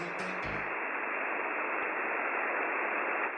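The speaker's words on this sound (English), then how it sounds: "Some of these codes reference an actual radio frequency in Massachusetts, which sounds like this." Steady broadband radio static from a real broadcast frequency in Massachusetts, used in Bethesda's viral marketing: a constant hiss that fills the whole clip at an even level, with a brief low thump near the start.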